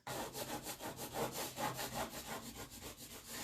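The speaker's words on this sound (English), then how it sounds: "So I just used the board scraper and went all across." A board scraper drags repeatedly across a magnetic board surface, giving loud, rhythmic rasping strokes that repeat steadily, close up and with no voices.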